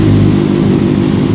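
A 2016 heavy motorcycle fitted with a Yoshimura exhaust runs loud and close, its engine a deep, throaty steady roar with slight pulsing, heard alone without talk.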